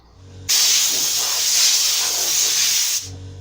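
A spray gun spraying paint onto kitchen cabinet doors: a steady, loud hiss starts abruptly, runs continuously for about two and a half seconds, then cuts off, leaving a faint background hum.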